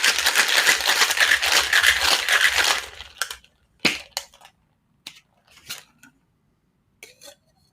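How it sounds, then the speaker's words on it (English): A cocktail shaker packed with ice and raspberries is shaken hard, a dense churning rattle lasting about three seconds, followed by several sharp isolated knocks and clinks as it settles. "I'm going to do a little bit of a shake just to break up those raspberries"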